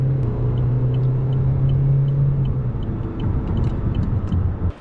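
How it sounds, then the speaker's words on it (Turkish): Opel Astra J 1.6 CDTI 136 HP diesel under full throttle, heard from inside the cabin as a loud steady engine drone and rumble holding through the clip with a faint rising tone, no talk. "Dip gaz yaptım. Bak kaldırdı 70, 80"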